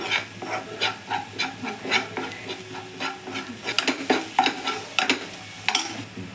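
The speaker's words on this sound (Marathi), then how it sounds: "वाटून घेतलेलं आहे ते थोडंसं असं परतून घ्यायचं" Ground masala paste being sautéed for dhaba-style egg curry: a steady hiss of frying with repeated rhythmic scrapes and stirs of a spoon in the pan, close and fairly loud, with no voices.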